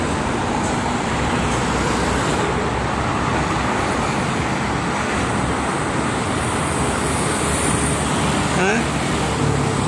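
Heavy traffic on the Jakarta-Cikampek toll road in late afternoon, with big trucks and buses streaming past in a steady, loud, continuous roar of engines and tyres, occasional passing vehicles swelling above the broadband rumble.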